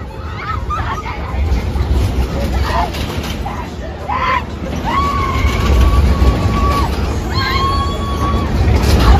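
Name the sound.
girls screaming on moon star fairground ride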